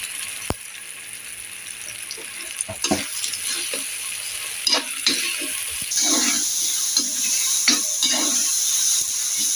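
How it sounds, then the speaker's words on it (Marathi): Garlic-ginger paste sizzles in hot oil with softened tomato, a steady frying hiss broken by stirring scrapes and spoon clinks that grow louder and busier toward the end, with no one talking. "लसूण अद्रकची पेस्ट टाकूया 1 चमचा"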